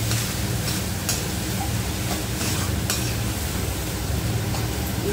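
Fried vegetables tipped into a pan with red chillies and tomato: loud, dense sizzling with constant stirring and scraping close by, steady throughout and no talk.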